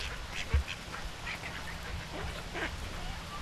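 Ducks quack beside the water in a few short, scattered calls, fairly faint, over a low outdoor rumble of wind and handling noise.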